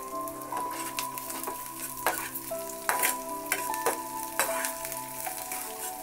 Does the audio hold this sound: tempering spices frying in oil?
yes